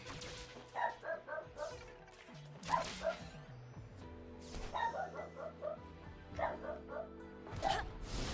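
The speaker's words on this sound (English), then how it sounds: "Why do other dogs have to bark?" Several dogs barking in repeated bursts, sharp yips and woofs recurring every second or two at moderate distance, with a low game soundtrack running beneath throughout.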